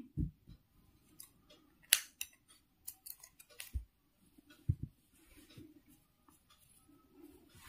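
Scissors cut a crocheted wool yarn chain with a few sharp, close snips scattered among quiet handling noises.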